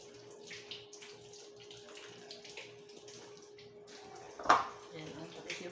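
Tap water runs steadily while onions and garlic are rinsed in a kitchen sink, with a brief louder splash near the end; faint background noise throughout.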